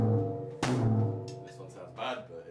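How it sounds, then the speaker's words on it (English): A rack tom on a drum kit is struck sharply, its low tone ringing and slowly fading, with a second, softer hit following about a second and a half later. "this drum here is called a rack tom"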